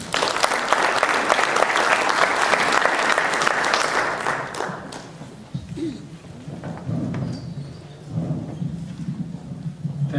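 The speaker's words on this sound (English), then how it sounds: "Let's give him a big round of applause." A panel discussion audience breaks into loud, dense applause for several seconds, then the clapping thins out to scattered claps and room noise.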